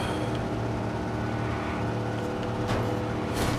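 Car engine driving in the video game Watch Dogs, a steady droning engine note held near constant revs, loud and continuous with a few brief whooshing swells.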